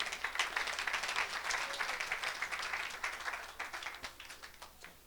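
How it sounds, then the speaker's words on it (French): An audience at an evangelistic church gathering applauds, a dense wash of clapping that stays steady and fairly distant before gradually thinning out. "Acclame pour Jésus"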